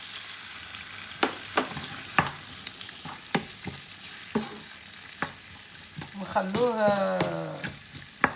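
Onion and ingredients for a cauliflower tagine in white sauce sizzle in a pan as a utensil scrapes and stirs in repeated strokes, while a person speaks briefly over the cooking.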